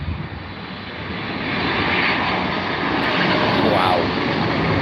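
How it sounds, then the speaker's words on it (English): Jet engines of a Boeing 777 at London Heathrow roar in a loud, broadband wash that swells and holds steady, the aircraft passing close. "That sounds like a 777, just purely by the noise of those engines alone."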